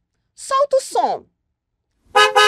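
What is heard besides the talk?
car horn honking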